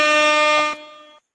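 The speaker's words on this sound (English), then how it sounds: "Air horns for Mike" A loud, sustained air horn blast, steady and brassy, holding for about a second before cutting off abruptly.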